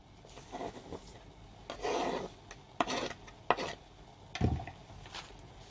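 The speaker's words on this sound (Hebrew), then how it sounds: "לאחר שסיימתי לחתוך את הירקות, אני שמה לתוך האורז" Chopped parsley, onion and tomato are scraped and tipped into baked rice in a kitchen dish, giving several soft rasping, rubbing bursts with quiet pauses between them.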